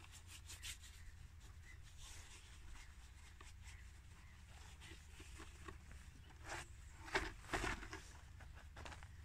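A cloth or brush rubs paint across an old wooden table top with soft, faint, repeated strokes and occasional louder scuffs, with no speech.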